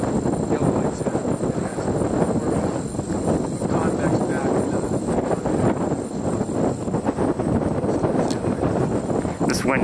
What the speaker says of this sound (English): wind is terrible.